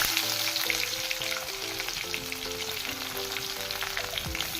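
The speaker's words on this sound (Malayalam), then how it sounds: "വെളിച്ചെണ്ണ ചൂടായിട്ടുണ്ട് നമുക്കിനി കടുകിടാം" Mustard seeds, curry leaves and crushed garlic fry in hot coconut oil with a loud, dense, continuous crackling sizzle, while a sustained melodic tone plays steadily underneath.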